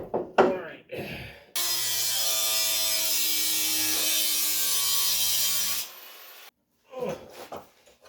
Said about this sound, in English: A lot of bolting and unbolting mounting and unmounting, test fitting.